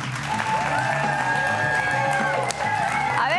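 A studio audience applauds in a dense, steady patter of clapping. A cheer and a whistle-like tone ride over the applause, along with some crowd noise.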